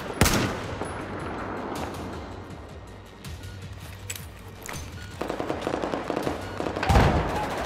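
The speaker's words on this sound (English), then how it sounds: "That grenade was too short." Battlefield 4 combat on PS5: a sharp grenade blast at the start, then sustained bursts of gunfire and scattered shots, with another loud impact near the end, all in the foreground.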